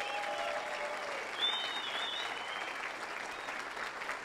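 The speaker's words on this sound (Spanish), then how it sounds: "Un aplauso." An audience applauds at an event honoring several couples, a soft, distant wash of clapping that holds steadily for a few seconds with a faint high tone above it.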